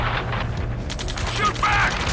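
Gunfire crackles in the video game Ace Combat 7 during a rescue mission, sharp mechanical bursts heard under radio voices shouting over a low steady drone.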